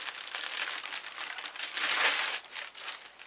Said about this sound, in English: Wrapped in some plastic.